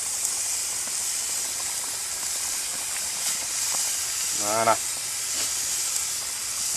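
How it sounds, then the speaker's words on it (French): BBQ pork ribs coated in a tomato-based sauce crackle and sizzle with a steady, bright hiss that runs throughout, while a voice briefly speaks once. "Ah, vous entendez le crépitement?"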